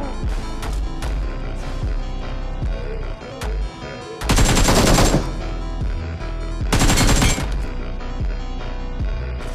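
Heavy gunfire in the BGMI battle royale video game, with rapid automatic bursts layered over constant game sound and two especially loud, dense volleys in the middle.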